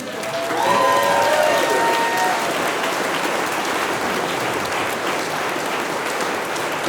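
Audience applause for a church chancel choir at a concert, a broad sustained clapping from a large crowd with faint cheering and a brief whistle early on.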